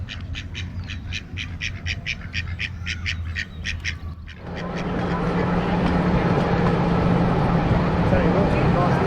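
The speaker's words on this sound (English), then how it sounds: "Some mallards and some wood ducks coming." Mallard and wood ducks quack in a quick series of repeated calls in a park setting, followed by a steady rumble of background noise as the calls fade.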